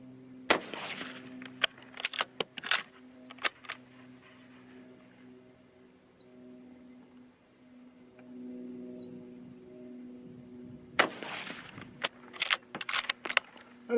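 Two sharp, loud cracks from a 22-250 Remington rifle loaded with Hornady 50gr V-Max bullets over Varget powder, spaced about ten seconds apart, each followed by brief clattering, over a steady low hum outdoors with no talking.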